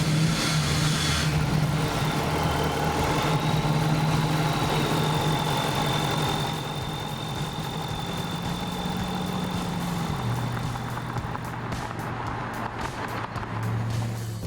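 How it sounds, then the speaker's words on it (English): A 1969 Ford F100 truck fitted with a 2002 Ford Lightning engine runs steadily at idle, its deep rumble swelling with revs and settling again, close and loud throughout. "pretty soon it was time to try and turn the key and see if this thing would run."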